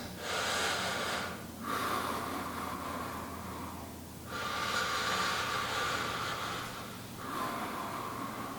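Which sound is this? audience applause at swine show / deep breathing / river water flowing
deep breathing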